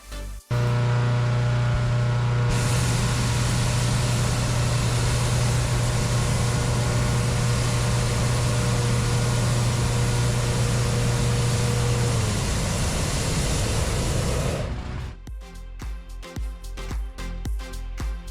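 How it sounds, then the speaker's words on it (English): Loud, sustained roaring burner blast with a low droning hum lasting about twelve seconds, then cutting off into rustling and scattered knocks. "the final stage of the balloon's inflation up close as the burners fired up"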